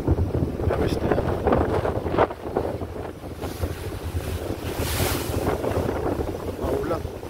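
Strong wind roars over a rolling StarHorse passenger ship on a rough, rainy sea, mixed with the wash of waves and the ship's steady rumble, loud and continuous throughout.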